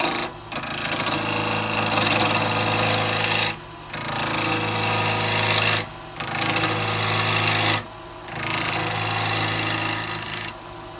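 A bowl gouge rough-turns a maple bowl on a lathe, giving loud, harsh scraping and chattering in long bursts of about two to three seconds, separated by brief quieter gaps as the tool is lifted and re-engaged.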